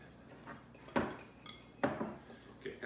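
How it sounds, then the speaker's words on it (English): Flour and salt for pasta dough are stirred together in a bowl, a few soft clinks and scrapes of a utensil against the dish, faint and close, with quiet pauses between strokes. "And then I've got a teaspoon of just regular old salt. We'll mix that together."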